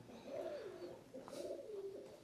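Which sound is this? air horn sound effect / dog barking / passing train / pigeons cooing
pigeons cooing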